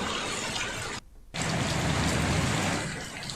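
Steady rain pours in the Ghoghamba area of Panchmahal, a dense broadband hiss with one brief gap before the downpour resumes loud and continuous.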